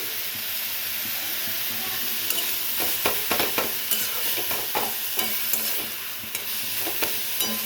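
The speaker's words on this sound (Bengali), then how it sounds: "এখন এটা ভালো করে আমরা নেড়ে নেব।" Cabbage filling for paratha, seasoned with a little sugar and salt, is stirred in a hot pan, soft sizzling and frying hiss running steadily beneath a series of sharp spatula scrapes and taps.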